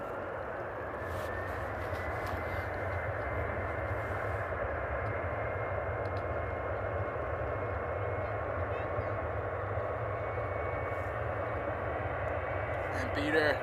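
A KLM Boeing 747 cargo jet, the Queen, takes off at Amsterdam airport, its engines a loud, steady roar with a whining tone that builds slightly toward the end; someone talks over it.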